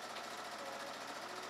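A sewing machine runs steadily at close range, stitching a French seam on dress fabric with a fast, even mechanical whir and no voices.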